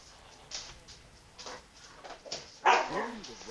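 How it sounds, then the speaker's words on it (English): Real dogs barking and scuffling in a home, with sharp yips and barks in bursts, louder near the end, plus a whimpering tail; faint game voices play underneath. "Please excuse my dog is fighting behind me."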